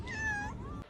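A cat gives a single clear, rising-and-falling meow close up, lasting under a second against a quiet background.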